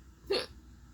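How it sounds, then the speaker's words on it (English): A single short hiccup from a woman, a sharp voiced catch standing out alone against quiet room tone. "Now I have hiccups."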